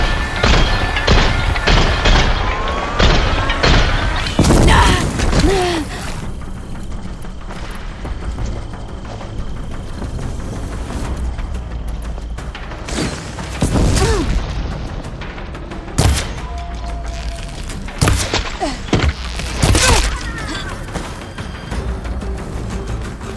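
Loud gunfire and explosions from the video game Horizon Forbidden West: heavy booms and thuds up front, rapid bursts of shots, then scattered impacts spaced through the rest.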